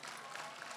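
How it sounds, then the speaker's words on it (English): Dinner audience clapping for a band at a formal evening event, a steady wash of many hands, moderately distant and fairly quiet, continuing without pause through the brief moment. "Clap for them, clap for your band"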